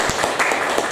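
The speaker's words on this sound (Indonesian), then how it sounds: "Ya, tepuk tangan buat kita semuanya." Brief burst of audience clapping at a classroom teaching session, fairly loud and close, a quick flurry of handclaps lasting about a second.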